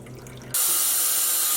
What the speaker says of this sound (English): I'm going to drain out some of this water and set it aside.